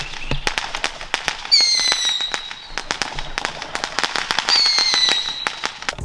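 Fireworks going off outdoors on the 4th of July: a rapid string of sharp cracks and pops, with two long whistling streaks that rise and fade. They sound fairly close and loud, with no talking.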